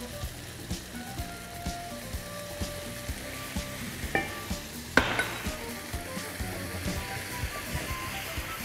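Ketchup and sugar sauce is stir-fried in a pan for cold angel hair pasta. A steady close sizzle runs throughout, with regular scraping strokes of the spatula about twice a second and a brief clatter midway. No one speaks.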